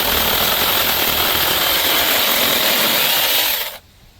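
DEKOPRO cordless mini electric chainsaw with a 6-inch bar cutting through a dead, dried-out branch two to three inches thick, a loud steady buzzing whir close by that holds for over three seconds, then stops abruptly into quiet.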